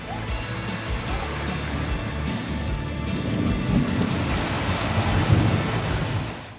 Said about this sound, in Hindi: मोरबी पर मौसम की मेहरबानी देखिए, झमाझम बारिश हो रही है।